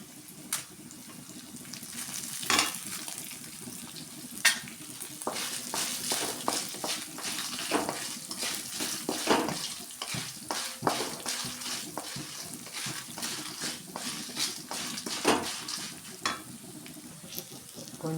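Chillies, peppercorns and fenugreek seeds frying in a pan for curry leaf powder, giving a steady close sizzle broken by frequent sharp scrapes and clicks of stirring throughout, with no voices.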